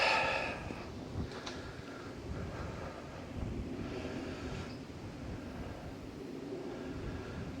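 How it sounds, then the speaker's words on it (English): Wind buffets a microphone on an open golf course at The Warren Estate, a steady low rumble and roar filling the whole stretch with gusts swelling briefly. "Wind into the face."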